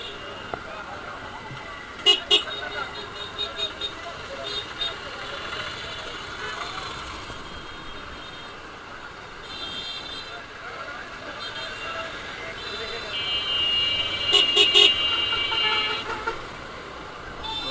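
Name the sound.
traffic jam with car horns honking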